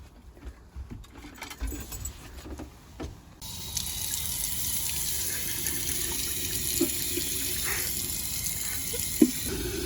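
Water sprays steadily from a tap on a boat, a constant hissing gush that starts abruptly partway through after quieter handling noises and continues loudly to the end.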